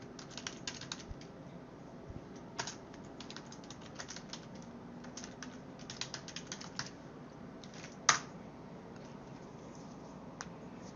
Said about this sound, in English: and then you type in the alert message.